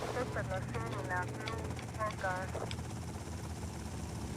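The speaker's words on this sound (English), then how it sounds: "The helicopter is right there." A helicopter in Grand Theft Auto: Vice City, a steady rotor drone running under someone talking throughout.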